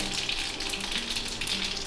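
Mustard seeds, urad dal, cumin, dried red chillies and curry leaves crackle and sizzle in hot oil, a steady close hiss with scattered pops.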